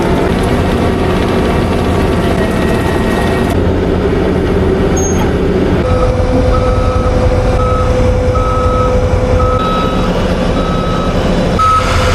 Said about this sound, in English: we're gonna move the skid steers back for the millionth time